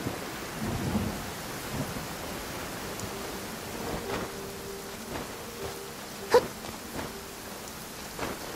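Steady rain hisses through a rainy scene in the video game Genshin Impact, with soft distant thunder rolling and a few sharper cracks of thunder standing out, and no voices.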